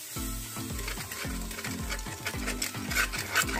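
A spoon scrapes and stirs in a pot of sambhar as strained tamarind pulp is mixed in, giving repeated rhythmic strokes over a soft simmering sizzle, close and alone without talk.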